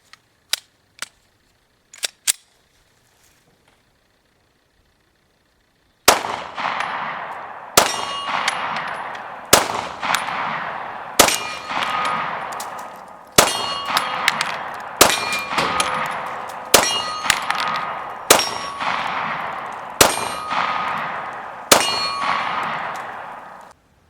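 Rounds fired from an FMK9C1 pistol with remanufactured 124-grain full metal jacket ammunition ring off a steel target, about a dozen sharp clangs at a steady pace, each loud metallic hit decaying briefly, after a few faint early ticks.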